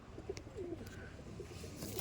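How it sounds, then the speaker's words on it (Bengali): Quiet, low burbling coos from pigeons, a few rolling calls close together over a faint background hum. "আমাদের গর্বের পায়রা"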